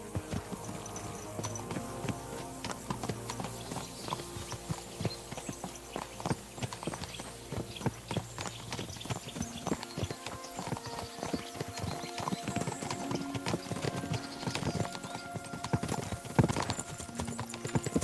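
Hooves clip-clop at a steady walking pace in Kingdom Come: Deliverance II, close and continuous, with a low hum and other game sounds underneath.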